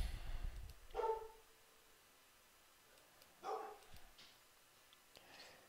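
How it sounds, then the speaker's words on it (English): Two separate barks from dogs, a few seconds apart, somewhat distant and faint, with quiet room tone between them, during online chess commentary. "Sorry about the dogs barking."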